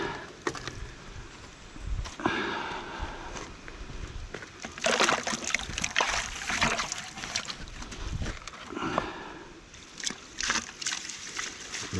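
Water washing down the tray of an Oz Wash Deluxe high banker used for gold prospecting: irregular splashing and sloshing bursts, moderately close, rising and falling over several seconds with no talk.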